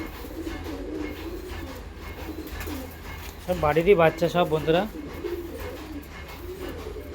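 Trained pigeons with their wings just untied burst into loud, throaty cooing, a rapid rhythmic run of coos lasting just over a second, with a person talking quietly before and after.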